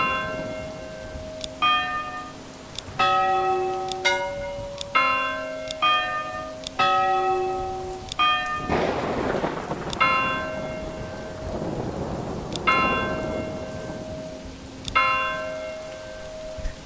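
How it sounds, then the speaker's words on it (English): Church bells ring out in Manor Lords, a series of bright, resonant strikes at irregular intervals of about a second, each with a long ringing tail, over rain and a loud rumble of thunder midway, with no talking. "Bell sounds."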